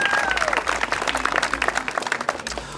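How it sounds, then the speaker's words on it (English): An audience at a zoo reopening ceremony breaks into dense, sustained clapping, fairly close and loud, with a voice faintly speaking over the applause. "Give him a round of applause."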